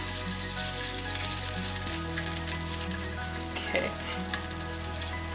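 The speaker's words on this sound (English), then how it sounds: "put the garlic, ginger garlic into it, and lightly fry it" Ginger and garlic fry lightly in oil for Goan chicken xacuti, giving a soft, steady sizzle beneath background music, with one brief spoken word.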